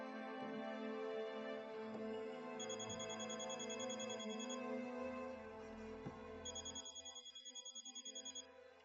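A telephone rings unanswered in a quiet room, repeated electronic ring bursts sounding faintly beneath a soft background music bed, pulsing more clearly toward the end.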